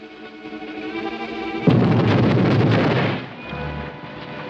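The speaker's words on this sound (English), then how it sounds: "Explosion. Beneath bank." A sudden explosion goes off beneath a bank, a loud low boom that rolls on for over a second before settling into a rumbling tail, with no voices over it.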